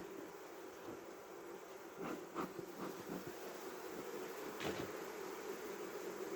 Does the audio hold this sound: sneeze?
no